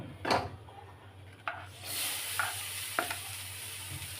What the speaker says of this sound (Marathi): पहिला आपण कांदा टाकून घेऊया